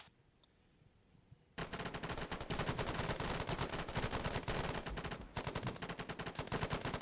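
Sustained machine gun burst from Marine platoon live-fire training, a rapid stream of loud, closely spaced shots running for several seconds after a brief quiet start, with one short gap partway through.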